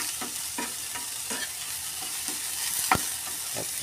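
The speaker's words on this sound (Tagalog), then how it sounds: "Ayan ang sibuyas at bawang naghahalo na sa" Onions and garlic frying in a pan, a steady close sizzle with a few soft clinks of stirring, one sharper knock near the end.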